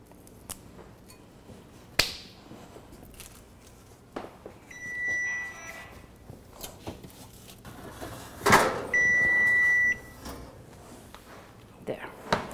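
A kitchen timer set for homemade yogurt beeps in two steady electronic bursts amid clattering kitchen work, with a person speaking nearby.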